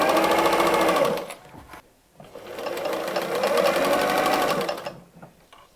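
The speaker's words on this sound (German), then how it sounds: "Verriegeln Nahtanfang und Ende und nähen los" Sewing machine stitching fabric layers for an origami Advent calendar, a loud steady needle hum running in two bursts with a short pause between them, close up and without talk.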